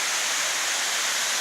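The Salto Ventoso waterfall pours in a constant, dense hiss of falling water, loud and unbroken, with no voices.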